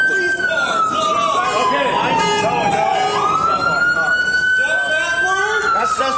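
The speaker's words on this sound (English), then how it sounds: "Siren." Police car siren wailing close by with a long sweeping tone that falls and rises, loud over engine and road noise, with brief talk in the background.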